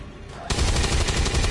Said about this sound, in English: So we might as well use our cannon